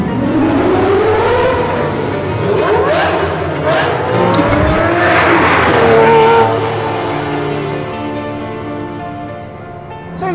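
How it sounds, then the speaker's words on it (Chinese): A rare 2001 Lamborghini Murcielago with a V12 engine and manual gearbox drives loud and close, its engine rising and falling through revs with shifting whine throughout. "是我第一次开上兰博基尼传奇的跑车 Murcielago。"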